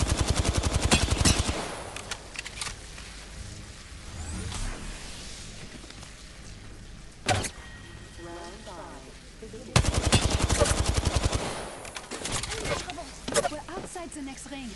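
Apex Legends weapons fire in loud automatic bursts at the start and again near the end, with a single sharp shot in between, while voices talk over the game sounds.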